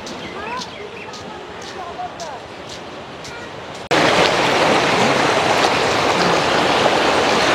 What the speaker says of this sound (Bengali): কি জোরে পানি নামছে এখানে